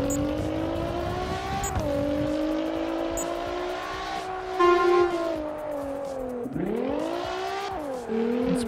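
A car engine in CarX Drift Racing drones steadily near and loud, its pitch rising and falling with throttle, sliding down sharply before climbing again, with a faint tire squeal.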